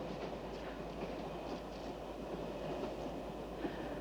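A moving train rumbles steadily from inside, with a continuous low roar and faint rhythmic clickety-clack of the wheels on the rails throughout.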